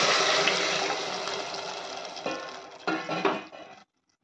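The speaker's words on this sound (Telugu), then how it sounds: "మనం ఉలువలు ఉడికించిన వాటరు పోసేసుకోవాలి" Boiled horse gram water pours into a pan for ulava charu, a close, steady liquid rush that thins out, followed by a few splashy gurgles and clinks before stopping.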